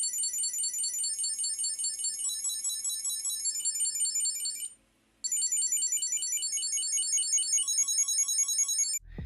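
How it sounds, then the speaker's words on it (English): A Chipolo Classic key finder tracker plays a high, chirpy electronic tune, repeating steadily for several seconds, pausing briefly, then resuming at the same level. "make your Chipolo ring or play a small tune"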